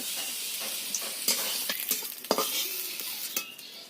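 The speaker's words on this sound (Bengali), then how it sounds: "পটলগুলোকে এবার খুব ভালো করে ভেজে নিতে হবে" Pointed gourd (potol) frying in a hot pan: a steady, close sizzle runs throughout, broken by scraping stirs and a few sharp clinks of a utensil against the pan, with no talking.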